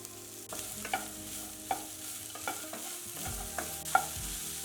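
Paste of green chili and ginger frying on high flame for vegetable pulao, a steady sizzle broken by repeated sharp spoon scrapes and stirs against the pan, close and alone.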